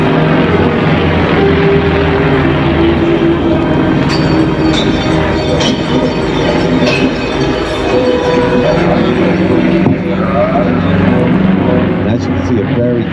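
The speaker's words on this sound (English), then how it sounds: "This particular aircraft is powered by a 9-cylinder 400 horsepower radial engine." A Yak aerobatic aircraft with a 9-cylinder 400 horsepower radial engine drones loudly and steadily at an airshow in Blackpool, with a throbbing, rumbling engine note sustained throughout as a commentator speaks over it.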